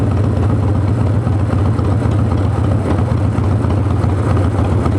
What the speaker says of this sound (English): The engine's actually getting higher.